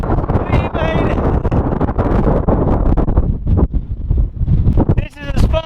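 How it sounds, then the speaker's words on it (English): Strong gusting wind buffets the microphone on an exposed hilltop at Pule Hill, a loud continuous roar with rumbling low-end bursts throughout, and people shout briefly near the end. "It's really windy! Like seriously windy!"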